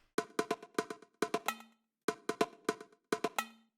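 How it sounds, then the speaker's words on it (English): A programmed bongo line from an Ableton drum rack in a tech house track, lightly processed, taps out quick dry groups of sharp pitched hits in a repeating syncopated pattern with short gaps, alone. "A bongo line that I made on drum rack"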